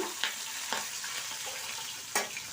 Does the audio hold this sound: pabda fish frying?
yes